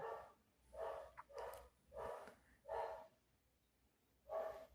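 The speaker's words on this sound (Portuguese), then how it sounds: "O cachorro começou a latir." A dog barks five times at a distance in a broken, irregular rhythm. The barks are fairly faint, are separated by short pauses and carry no voices over them.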